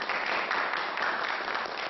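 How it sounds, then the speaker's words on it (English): Steady, dense applause from a crowd, even and unbroken for about two seconds and heard somewhat muffled and distant. "There'll be more applause."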